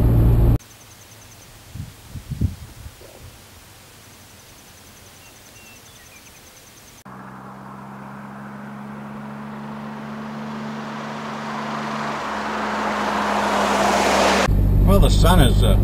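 A car cruises through the Nebraska Sandhills on a foggy morning, a steady engine drone and road rumble that grows gradually louder after a quieter stretch at the start.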